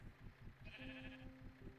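A sheep in a video game gives one wavering bleat, faint, over a soft rhythmic background pulse.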